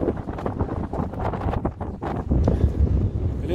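Strong gusting wind buffets the microphone on a wet countryside walk in Wales, a loud, continuous rumbling roar that rises and falls with no other clear sounds.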